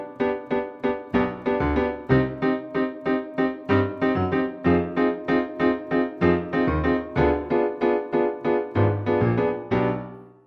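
Piano intro of a song: a steady, bouncy run of stabbed chords with a low bass line underneath, loud and close, played alone without voices.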